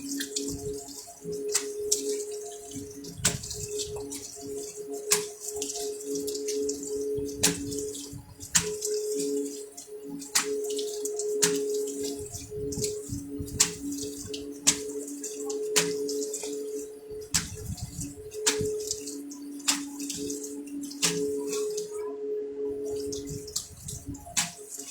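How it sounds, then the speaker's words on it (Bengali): Running tap water splashes steadily as face product is rinsed off by hand, with repeated small drips and splashes over a constant faucet flow, close and fairly loud, no talking. "ওকে, নাও ধুয়ে ফেলছি।"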